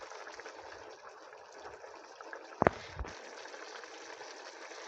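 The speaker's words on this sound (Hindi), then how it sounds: "इसके लिए हम इसमें आधी प्याली पानी की डालेंगे" Half a cup of water poured into a simmering chicken korma, a brief gush and splash standing out over a steady sizzling, bubbling background in a home kitchen.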